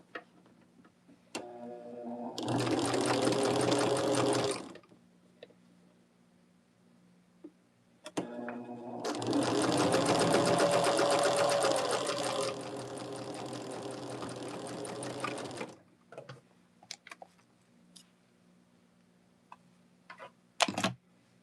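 A sewing machine stitches quilt block pieces together for a Jacob's Ladder block in two close, steady runs, a short burst and then a longer one. Quiet handling and small clicks fall between the runs, and no one speaks.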